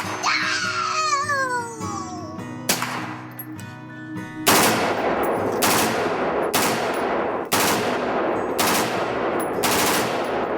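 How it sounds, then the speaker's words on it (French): Machine gun bursts at a shooting range crack out in repeated loud, sharp volleys, about half a dozen evenly spaced blasts in the second half after a noisy, warbling stretch of other sound. "Lorsque vous tirez avec une mitrailleuse"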